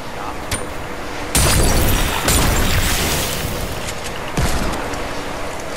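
Heavy booming bomb blasts in a video game, a loud burst followed by a second one, each trailing into a dense rumbling roar, with no talk in between.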